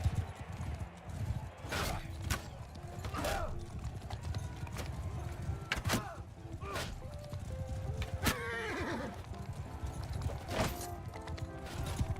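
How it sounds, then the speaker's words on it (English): A horse in the medieval video game Mount & Blade: Bannerlord, with hoof clip-clops, snorts and a whinny over game ambience and scattered sharp effects, fairly quiet overall. "Oh, it's a horse."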